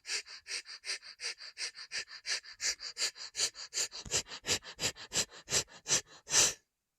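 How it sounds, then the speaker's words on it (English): Repeated sharp sniffing breaths drawn in and out through a single nostril, about twenty quick close rhythmic pulses that grow louder toward the end, with no talk. "I can breathe out of this nose."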